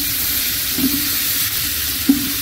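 Potatoes tipped into a hot kadai over spice tempering give a steady, moderate sizzle, with two brief soft knocks of food and utensil against the pan.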